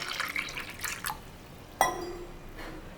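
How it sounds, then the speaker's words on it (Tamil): Faint trickle and drips of water being poured into buttermilk, with a small splash midway, quiet and close, no voices. "அதில் தண்ணி விட்டுக்கலாம்."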